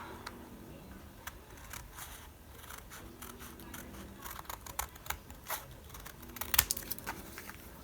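Scissors trimming paper for a handmade junk journal, a scattering of crisp snips and clicks over a steady low hum, with a sharper cluster of cuts near the end.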